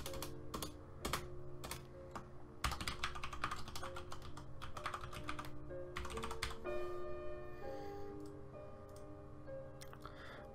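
Typing on a computer keyboard: close, crisp key clicks in irregular runs with brief pauses, in a quiet room with no speech.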